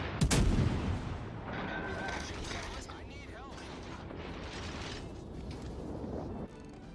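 Naval gunfire in the World of Warships Legends video game: a loud, close cannon blast opens, followed by rumbling echoes and softer mechanical and battle sounds beneath.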